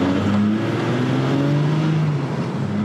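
A race car engine running on fuel oil (mazout) idles and revs with a steady low rumble and rising and falling pitch, loud and close, with no talking.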